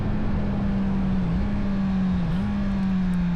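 A motorcycle fitted with an electronic E-Clutch system runs at a steady, loud engine drone up close, with two brief dips in pitch as it shifts gears while riding, with no voices.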